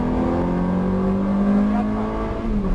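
A car accelerating hard on a race track, its steady engine drone holding strong and close throughout with a rising harmonic tone.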